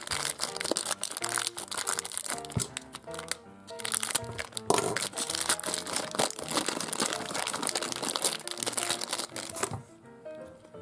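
A plastic bag from a children's toy surprise package crinkles loudly and continuously up close as it is opened and handled, with brief sharp crackles and pauses.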